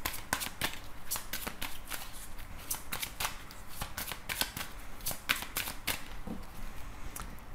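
Tarot cards shuffled and cut by hand, a rapid run of crisp papery riffles and snaps coming close together in an irregular rhythm, near and clear with no talking over them.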